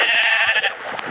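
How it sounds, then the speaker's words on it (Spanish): A sheep bleats in Minecraft, a single drawn-out, wavering bleat up close that fades out, with a few faint clicks in the background. "Acá hay una oveja."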